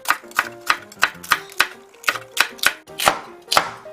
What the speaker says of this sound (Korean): 풋고추도 어슷 썰어주세요